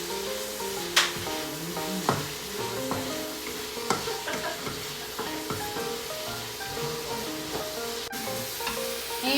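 Tomatoes sauté in a pan for Batangas-style pochero, with a continuous close sizzle broken by sharp clinks and scrapes of stirring. No one speaks over it.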